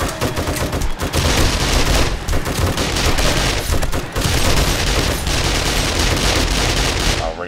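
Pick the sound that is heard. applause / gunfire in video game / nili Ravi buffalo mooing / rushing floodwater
gunfire in video game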